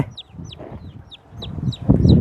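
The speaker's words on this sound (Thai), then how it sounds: "ไก่น้อยเนาะ" A small chicken clucks in a run of quick, close chirpy notes that grow louder and busier toward the end.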